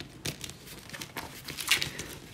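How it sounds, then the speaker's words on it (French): Crinkling and tearing of cardboard packaging in a series of short rips and rustles close by, with a louder burst near the end and no talk over it. "il faut que je déchire le carton"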